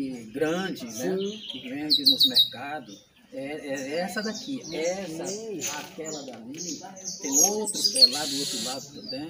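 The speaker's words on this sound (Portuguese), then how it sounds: "Você escuta o som do passarinho cantando aqui acima de nós." Birds chirp and tweet in the fruit trees overhead of a backyard orchard with mango and orange trees, short high calls scattered under near, continuous conversation.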